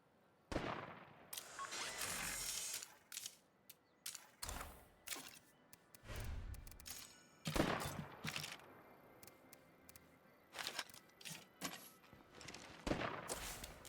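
Bursts of gunfire in State of Decay 2 arrive as sharp, separated volleys with short gaps between them, some single cracks and some clustered rapid shots, fairly close and punchy.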